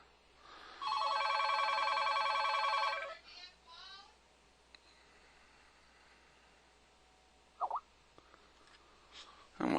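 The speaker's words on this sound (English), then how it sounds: "the phone's going to ring time to time" An office telephone rings once in a loud, steady electronic trill lasting about two seconds, close by, followed by quiet room noise, a few soft clicks and faint movement.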